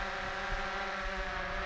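A steady, loud mechanical whir with a constant buzzing hum from a drone's propellers hovering about 5 or 6 feet overhead, with a faint rumble underneath.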